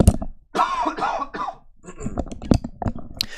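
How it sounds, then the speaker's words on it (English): A man coughs repeatedly in a series of harsh, close bursts, with a short stretch of speech before the coughing fit and quieter throat sounds between the later coughs. "I need to cough again."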